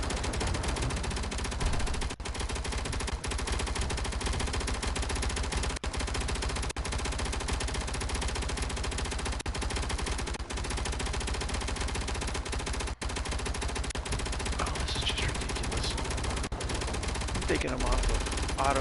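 Sustained, non-stop gunfire from a video game, a dense continuous barrage of automatic shots running loud and unbroken throughout, with a faint voice occasionally underneath.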